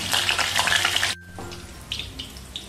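Green chilies drop into hot oil left from frying onion bhaji, giving a loud, dense sizzle that cuts off abruptly partway, followed by a quieter, fainter crackle of frying.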